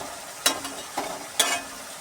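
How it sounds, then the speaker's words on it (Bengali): Masala for a fish curry being sautéed in a pan, a few short scraping strokes with a light sizzle between them, close by and with no talk. "একটু ভালো করে কষানো হোক"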